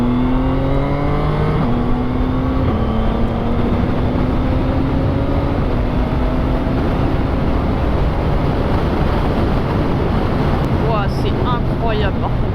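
A CFMoto 675SR-R three-cylinder sport motorcycle under way, its engine droning steadily with rising and shifting pitch through gear changes, loud and close over heavy wind noise for the whole stretch.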